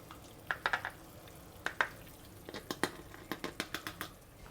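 Pieces of pork dropped into a pot of sour soup seasoned with white vinegar, a run of sharp close clicks, splashes and light sizzling pops coming in irregular clusters, with no talking.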